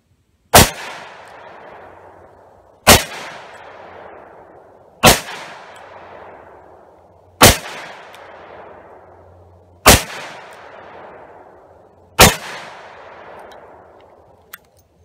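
Six shots from an older Smith & Wesson Model 13 six-shot .357 revolver, each a sharp, loud crack with a ringing decay, spaced about two and a half seconds apart.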